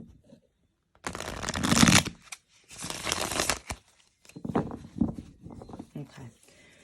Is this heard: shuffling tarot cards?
yes